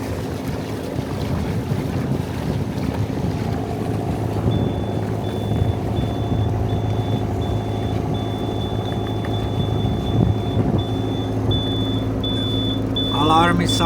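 A thin, high, intermittent alarm beeps repeatedly aboard a sailing boat at anchor, steady and fairly faint above loud wind buffeting and a low engine-like rumble, with some talk mixed in.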